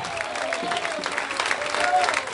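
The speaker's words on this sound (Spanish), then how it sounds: "Dele fuerte ese aplauso al Cristo de la gloria." A church congregation claps in a steady wash of applause while a preacher keeps talking over it, loud and close.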